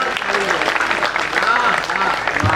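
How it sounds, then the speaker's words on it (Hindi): Audience clapping at a Hindi hasya kavi sammelan (comic poetry gathering) in Piplantri, a steady dense wash of applause from a crowd filling the whole stretch, with some voices mixed in. "हमारे माथा में एक बार ताली वाली बजा दो मजा आ रहा है"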